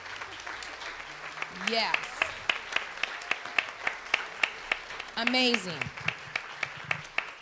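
A church congregation applauds its volunteers with loud, steady clapping. A speaker's voice rises over it twice in short phrases, and a few sharp individual claps stand out.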